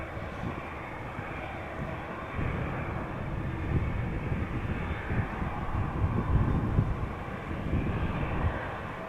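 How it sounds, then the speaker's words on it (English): A United Airlines Boeing 787-8 Dreamliner departing Amsterdam Schiphol Airport for Chicago O'Hare, its jet engines making a loud, steady broadband roar that swells slightly partway through. "United Airlines Flight 908, Boeing 7878 Dreamliner outbound to Chicago O'Hare"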